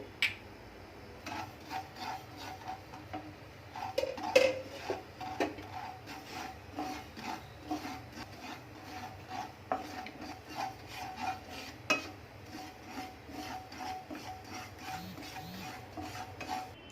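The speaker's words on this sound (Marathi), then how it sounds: "इथे खसखस आपण कोरडी भाजून घेणार आहोत" Poppy seeds dry-roasting in a pan while being stirred, a soft continuous scraping and rustling at low volume with occasional sharper taps.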